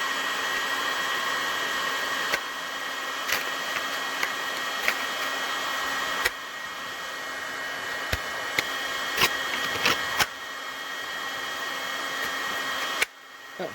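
A heat gun blows a steady, loud airflow roar while reheating a holster mold for an IWB light-bearing taco holster, punctuated by a few sharp clicks and taps before the roar cuts off near the end.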